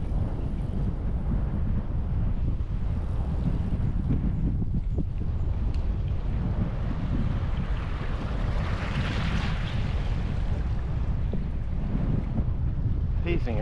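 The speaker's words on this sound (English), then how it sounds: "There's that headwind I've been looking for." Strong headwind buffets the microphone while riding a Brompton folding bike through a sleepy farming town in Japan, a constant loud low roar and rumble of gusting air with no pause.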